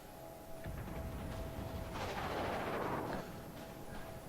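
Naval gunfire from warships in the World of Warships video game, a sustained rumbling barrage of cannon rounds building to a loud, dense peak midway before easing off, with no talking over it.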